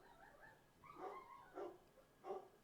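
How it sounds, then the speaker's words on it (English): Dogs barking indoors in the distance, a few faint, evenly spaced barks and yips over quiet room tone. "The doggos are barking."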